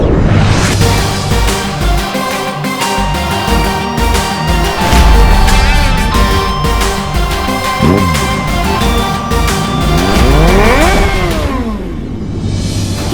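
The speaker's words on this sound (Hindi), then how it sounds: "ये तो दोस्त की बाइक की ही आवाज है" A motorcycle engine revving and accelerating loudly and close by, rising and falling in pitch over several throttle swells amid a dense, busy background.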